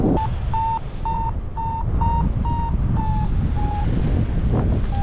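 Steady roaring wind buffets a paraglider in flight over the Pyrenees, loud and continuous, with a faint repeating electronic beep, likely a flight vario, pulsing over the rush.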